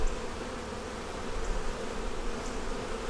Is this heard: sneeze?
no